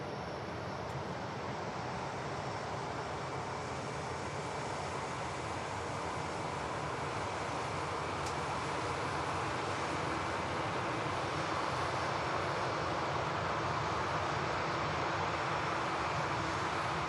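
A Ryanair airliner at Manchester Airport gives a continuous broad engine roar that holds steady and swells slightly toward the end, heard from a distance with no talking.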